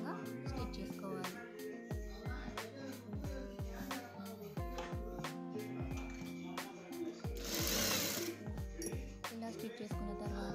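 Sewing machine running in repeated short bursts while stitching a cloth border onto a square neckline, close and steady with gaps between runs and a brief louder rustle of fabric near the end.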